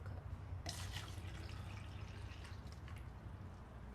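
Water poured from one cup into another during a group demonstration, a steady trickling splash that starts under a second in and runs on fairly quietly over a low background hum.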